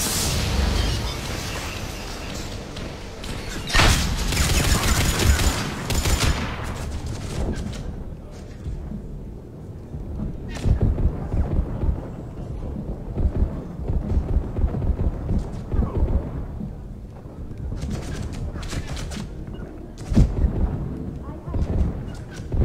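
Heavy-attack combat in Mass Effect 3, with booming impacts, explosions and bursts of gunfire recurring throughout under someone talking.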